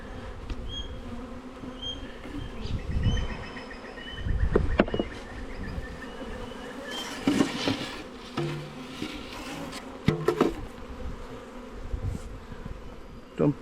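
Honeybees buzz steadily around an open hive during a rainy-day inspection, a dense insect drone close by with a few scattered taps and knocks from handling the hive.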